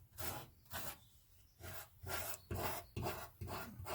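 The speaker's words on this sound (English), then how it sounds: "You can sort of just hear as I rub my finger over." Fingertip rubbed over a tiny step in a welded steel boot floor repair patch on an Austin Mini, giving close, rhythmic rasping strokes, about eight short scrapes in four seconds, alone and fairly quiet.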